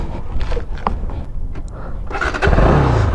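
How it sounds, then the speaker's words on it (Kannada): A second-hand motorcycle engine is kicked or cranked into life, with scraping and handling noises first, then a loud rumble that catches in the final second and keeps running close by. "ಇವಾಗ ಬೈಕ್ ಸ್ಟಾರ್ಟ್ ಮಾಡಿ ಏನು ಚೆಕ್ ಮಾಡ್ಬೇಕಂತ ತೋರಿಸ್ತೀನಿ."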